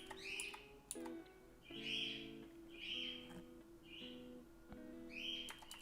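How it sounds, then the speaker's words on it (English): Pet birds kept indoors chirp and screech in repeated loud bursts, several shrill calls spaced about a second apart, with sharp tweets in between. The calls stand alone without any talk, over a faint steady tonal hum. "why are my birds screaming again? I just fed you!"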